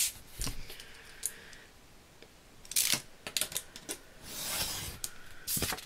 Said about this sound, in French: Hop, on va couper.